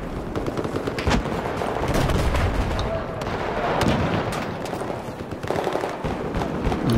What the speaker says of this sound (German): Mal wieder ein bisschen mit dieser Pistole hier spielen.